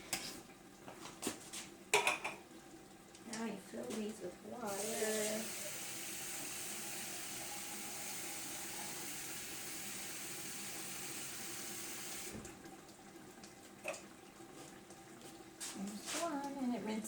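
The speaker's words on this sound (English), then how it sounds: "Now you fill these with water." Water runs steadily from a kitchen tap into containers for a mix, a continuous hiss under clinking dishes and utensils, with a person talking before and after the filling.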